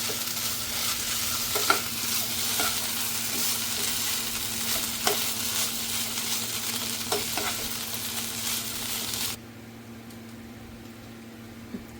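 Potato stir-fry seasoned with pepper powder is stirred and mixed in a sizzling pan, with a continuous close fry hiss broken by occasional sharp scrape clicks until the sizzle drops away near the end.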